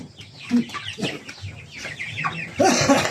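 Chickens clucking as they are fed, several close, choppy clucks and squawks in an uneven burst, rising to a louder flurry near the end.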